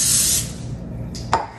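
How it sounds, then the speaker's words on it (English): A can of cooking spray lightly coating a loaf pan for quick no-yeast bread, heard as a steady hiss for about half a second, followed by quieter handling noises and a brief knock. "Okay, so you wanna just take it and lightly spray it."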